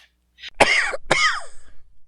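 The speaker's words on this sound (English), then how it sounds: "He coughed and he gasped," A cartoon beagle, Snoopy from the 1968 Peanuts special, fakes coughing and gasping while on a leash. Two sharp, strained vocal bursts come close together, the second drawn out into a rasping gasp, likely voiced by a performer.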